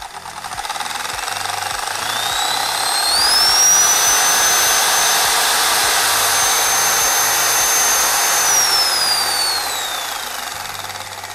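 A loud electric jigsaw runs continuously with a high whine that rises and falls, close by and alone.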